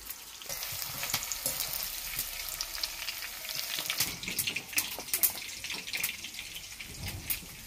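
Chopped capsicum frying lightly in hot oil for a Bengali-style chicken capsicum masala. A close, continuous sizzle is full of irregular crackles and pops, with occasional louder spatters and no talking.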